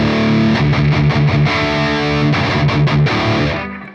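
Heavily distorted electric guitar tuned to drop D through an ANGL Meteor amp model on a Line 6 Helix, loud chugging palm-muted riff with rhythmic stops, ending on a ringing chord that fades.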